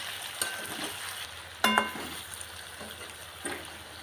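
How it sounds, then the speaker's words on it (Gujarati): A tindora and potato curry is stirred in a pan, with a quiet simmering hiss broken by a sharp metallic clink of the spoon against the pan partway through and a few softer scrapes. "હલાવી નાખીએ એટલે ભળી જાય."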